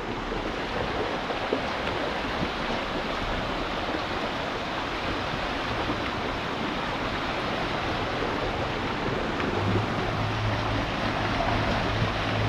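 Steady rushing water of a flowing stream, continuous and fairly loud, with no voices.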